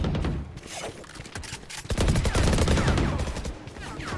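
Rapid bursts of Vandal rifle fire in a first-person shooter game, loud, dense volleys that swell and stay heavy through the second half, with no talk over them.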